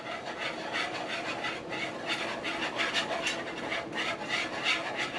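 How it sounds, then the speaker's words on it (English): Whisking flour into melted butter in a pan to make a roux for lobster mac and cheese gives a steady, close, raspy scraping of whisk strokes that continues without a break and with no talk. "In order to get the flour fully incorporated, I'm just kind of like slowly whisking it in as I go."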